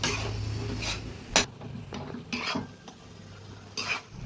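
Eggplant being sautéed in oil in a pan for a Tamil kara kuzhambu, with a soft sizzle under intermittent scraping and clinks of a spoon against the pan.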